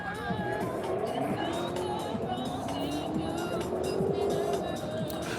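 Cars racing at a distance, a gray car among them: engines drone with rising and falling pitch sweeps from passing vehicles, set against crowd murmur, while a voice talks nearby.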